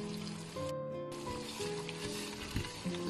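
Semolina and nuts toast in a pot on the stove, giving a steady close sizzle with scraping stir noises throughout.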